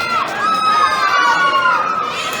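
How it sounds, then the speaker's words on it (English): Wrestling show crowd in McGee, Mississippi cheering and shouting steadily throughout, loud and close, with children's high voices standing out in the mix. "Got a real active crowd here in McGee, Mississippi."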